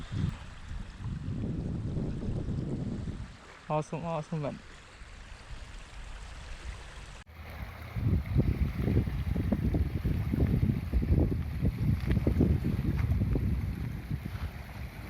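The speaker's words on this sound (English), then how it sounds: "I definitely recommend to have a look and listen to the soothing sound of these waves." Waves lapping on Pocharam Reservoir, a lake, heard as a steady, close rolling wash with wind buffeting the microphone throughout, briefly interrupted by a short spoken exclamation near the middle.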